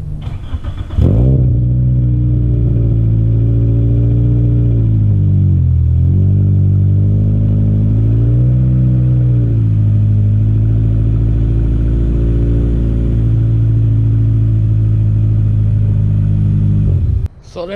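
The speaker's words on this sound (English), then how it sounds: "So I'll give you a little cold start." A Toyota Corolla XRS engine starts from cold with a sharp crank, then settles into a steady, loud idle. The rumble stays close and continuous with a few small rises and dips in pitch, and the engine cuts off at the end.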